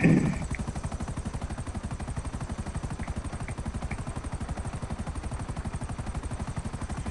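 Rapid rotor chop from a video-game helicopter in GTA 5 Online pulses steadily and evenly for several seconds, a continuous mid-level thrumming with faint high blips scattered over it.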